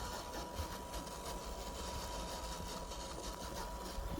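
FMS FJ40 RC crawler driving with a noisy, whining drivetrain and gears, a steady continuous mechanical hum and rattle held at even level throughout, fairly faint and close, with no talk.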